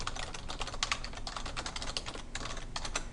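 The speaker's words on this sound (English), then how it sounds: "So we're going to type sales revenue for bonus" Rapid keystrokes on a computer keyboard as a spreadsheet row is entered, a steady close patter of light clicks running without pause throughout.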